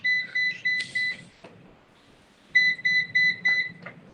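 A robot vacuum cleaner gives off clear electronic beeps in two short bursts of about four tones each, with a pause between them, heard faintly over a quiet room.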